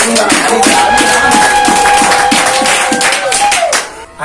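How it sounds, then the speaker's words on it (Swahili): A church congregation claps together in a steady rhythm, the claps close and even under a sustained tone, fading out at the end. "Tumupigie makofi mama kujiunga na kanisa."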